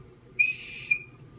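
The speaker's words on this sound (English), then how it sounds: "That's a good little whistle." Toy bird whistle worn as a ring on two fingers and blown, giving a single high, steady whistle of about half a second with a brief sharp onset and a short chirp at the end, alone over quiet room hiss.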